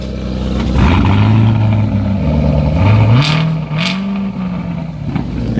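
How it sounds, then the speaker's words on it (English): A stock 2019 Chevrolet Corvette ZR1 with its exhaust opened fires up and revs, the loud, close engine rising and falling through several throttle blips before settling into a deep idle. "we about to hear the ZR1 crank up"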